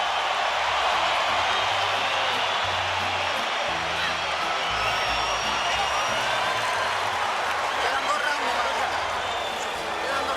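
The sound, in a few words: boxing crowd cheering on their feet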